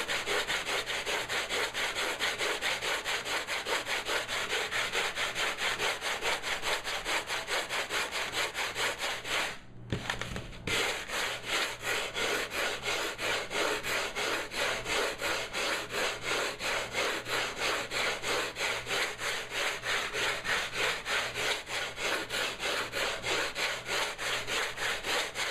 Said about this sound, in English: you can use a regular sander with this stuff